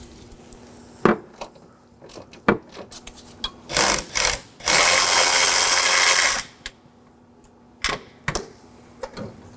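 A ratchet backs out the last strut bolt on a 2013-2019 Nissan Sentra: scattered clicks, then a few short bursts of rapid ratcheting and one long continuous run of fast clicking, close and loud, followed by more isolated clicks.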